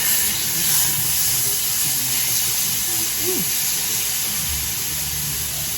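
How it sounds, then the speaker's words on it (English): Steady hissing and bubbling of water boiling in a pot, close by and continuous, with faint kitchen clatter underneath. "Our water's boiling."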